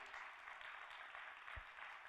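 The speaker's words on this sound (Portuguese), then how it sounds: "Você pode dar mais uma salva de palmas para Jesus?" A church congregation applauding during an online worship service, a steady, dense wash of clapping that holds at an even level for about two seconds, fairly quiet and distant.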